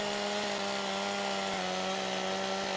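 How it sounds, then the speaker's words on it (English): Chainsaw in Farming Simulator 17 running at a steady buzzing drone, loud and continuous, with brief dips in pitch as it works. "Where's the chainsaw?"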